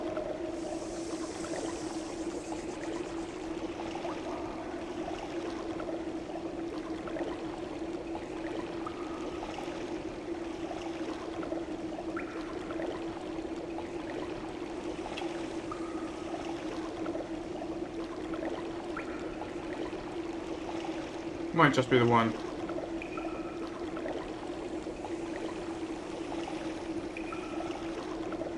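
Steady rushing water fills a Thief fan mission level, a constant flowing wash with a low hum beneath it, briefly broken by a short sweeping tone; a voice speaks quietly once.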